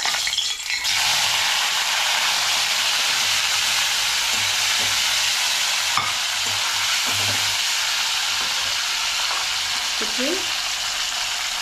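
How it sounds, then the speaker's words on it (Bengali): Paneer pieces fry in hot salted oil in a pan over low heat, giving a steady, close sizzle throughout with a few faint clinks of utensils. "আঁচটা আগে গরমটা কমিয়ে দিয়ে এবার এতে পরপর পনিরগুলো ঢেলে দিচ্ছি"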